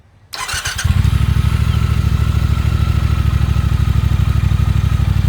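A Triumph Thruxton motorcycle engine cranks briefly, then fires and settles into a loud, close, rapid idle that runs steadily to the end.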